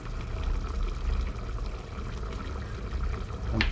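Seasoning liquid poured into a pot of boiling broth, a steady close trickle and splash over continuous bubbling and kitchen background noise, with a brighter splash near the end.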